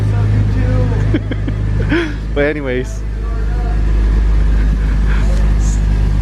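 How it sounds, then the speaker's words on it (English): A car engine idles to warm up after sitting undriven for a while, a steady low rumble running throughout beneath someone talking. "pretty much just letting the car warm up"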